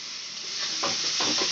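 Egg bhujia being sautéed in a pan while cooking masoor dal tadka, a steady bright hiss of frying with a few soft stirring scrapes toward the end, brief and close.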